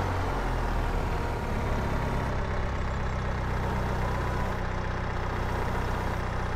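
A farm tractor pulling a seeder idles nearby with a steady low rumble and even mechanical drone that holds for several seconds, fairly loud, with no talk over it.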